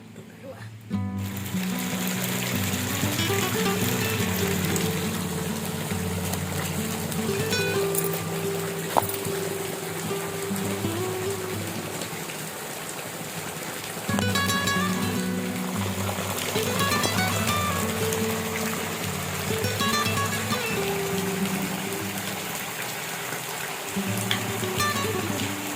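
Steady, continuous rainfall hisses for a long stretch at moderate level, heard beneath people talking nearby.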